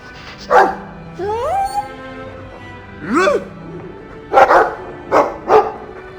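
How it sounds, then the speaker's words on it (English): A dog in the fantasy role-playing game Dragon Age II gives several close, short barks and yips, with a few whimpering, rising whines in between, loud and alone. "I like the doggy."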